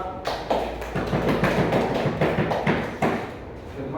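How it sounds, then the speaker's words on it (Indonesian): Classmates clap together at the end of a seminar proposal presentation in class, a dense and steady patter of many hands that lasts throughout with no talking. "beri aplaus kepada teman kita"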